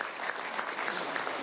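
Applause for the president of the Central Bank of Venezuela at an official event marking the signing of a mining development plan: steady, dense clapping from an audience, sustained and even throughout.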